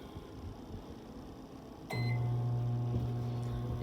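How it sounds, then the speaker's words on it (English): A microwave oven set to 20% power: quiet room tone, then a sharp beep and the unit starts with a loud, steady electrical hum that continues to the end. "There's a turntable inside my microwave so the food spins so it gets warmed up evenly."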